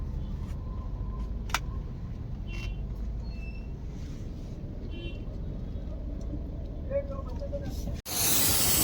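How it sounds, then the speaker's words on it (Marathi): A steady low rumble of a vehicle engine runs throughout, with a few faint clicks and a sudden loud hiss at the end. "चल तर आता आपण गाडी पुढे घेते"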